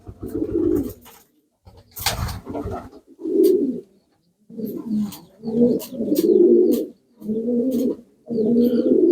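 Pigeons coo repeatedly inside a village pigeon loft, their low throaty calls coming in close, rhythmic bursts with short pauses between, the last few phrases running together.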